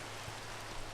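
Faint, even rainfall in the video game Minecraft, a brief soft hiss of drops with a low hum underneath and no speech.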